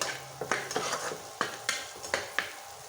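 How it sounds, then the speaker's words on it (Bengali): A utensil stirs coriander powder and salt into dried fish in a pan, with sharp scraping knocks at irregular intervals over a faint sizzle, close and uninterrupted by talk. "হাফ চামচেরও কম ধনিয়া গুঁড়া দিয়ে দিচ্ছি, স্বাদ মতো লবণ দিয়ে ভালো করে নেড়ে"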